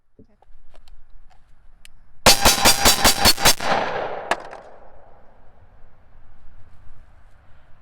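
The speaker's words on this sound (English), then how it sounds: "We're going to draw from concealed, and I'm going to shoot my action target down there." A rapid string of about eight loud, close 45 ACP pistol shots is fired from a concealed draw at an action target. One final single shot follows, then the range falls quiet.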